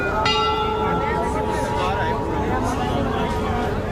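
Temple bells ringing at Kedarnath temple in a dense, continuous wash of sound with a crowd chanting and talking throughout, the bell tones sustained and blended under the steady noise.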